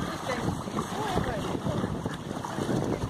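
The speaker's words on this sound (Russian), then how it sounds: "Ветерок дует." Breeze blowing across a lake beach, a steady close rumble of wind over the microphone with faint water and boat ambience, with no break across the whole stretch.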